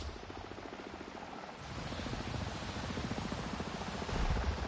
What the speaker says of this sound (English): Okay, I can hear helicopters.